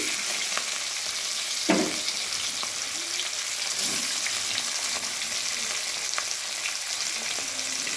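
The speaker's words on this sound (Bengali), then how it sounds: "দেখতেই পাচ্ছ আমি মাছগুলো সব এক এক করে ভেজে নিচ্ছি" Small chela fish frying in a karahi of oil, a continuous close crackling sizzle with a sharper spit or utensil knock now and then, no one talking.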